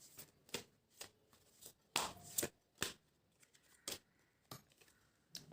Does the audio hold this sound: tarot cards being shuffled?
yes